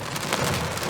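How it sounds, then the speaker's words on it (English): Steady rain falls on the south shore of Moraine State Park during a severe thunderstorm, a broad, even hiss of drops that keeps a constant level throughout, with no voices. "I'm just watching it rain,"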